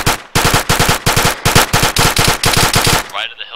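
Loud, close automatic fire in the military shooter ArmA III, a string of rapid bursts with short gaps between them that ends abruptly, leaving a brief ringing tail.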